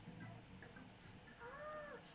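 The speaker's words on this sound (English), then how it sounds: "Is that your pet, mister? I heard it meowing." A stuffed toy cat in the Persona 5 Royal video game lets out a short, faint electronic meow over quiet game background sound.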